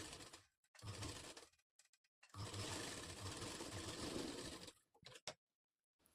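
A sewing machine stitches a katori blouse in two long whirring runs with a short pause between them, fairly faint and recorded close, with small clicks at the start and end.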